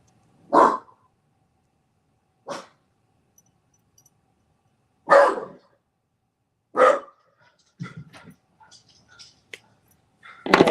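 A dog gives a series of single barks, about five spaced over several seconds, fairly close and loud, followed by quieter rustles and small whimpery sounds.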